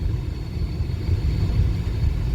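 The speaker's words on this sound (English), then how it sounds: "I did hear the fans running." Pontiac Grand Prix idling with its radiator cooling fans running, a steady low engine rumble under a constant airy fan whir, close and even throughout.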